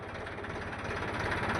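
A tractor engine runs under heavy strain with a steady, low, pulsing rumble that grows slightly louder over a brief moment, close by and without talk.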